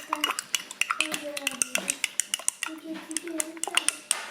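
Utensil clinking and scraping against a bowl while ingredients are mixed to a smooth, lump-free batter in a home kitchen, with rapid repeated taps and scrapes close by and speech heard over it.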